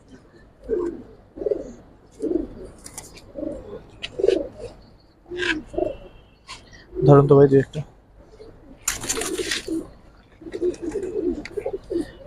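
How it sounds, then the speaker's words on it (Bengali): Pigeons coo at a loft in repeated soft, throaty pulses, close by, while people talk over them. "আরেক জোড়া সবুজ গোলা কবুতর আছে"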